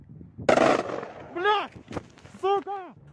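Gunfire and explosions erupt outdoors during an attack on an island: a loud broadband blast near the half-second mark, followed by sharp cracks and bangs, with shouting voices breaking in between.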